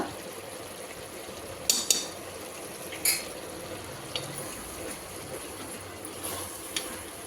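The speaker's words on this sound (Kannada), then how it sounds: "ಇಷ್ಟನ್ನು ಹಾಕಿ ಫ್ರೈ ಮಾಡ್ತಾ ಇದ್ದೀನಿ" Chilli powder, coriander powder and garam masala frying in a pan for capsicum rice bath, with a soft steady sizzle and a few sharp clicks and scrapes of stirring, no talk.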